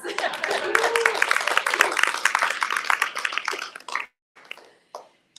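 A crowd at an evening spiritual gathering breaks into dense, steady applause for about four seconds, loud and close, then it cuts off and a few scattered claps and faint sounds trail after.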